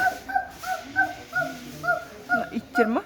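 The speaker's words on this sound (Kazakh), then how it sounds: "Ана күшік қой ит." A puppy whimpers and yips in a run of short, high, rising cries, about eight in three seconds, close and moderately loud with faint room noise behind.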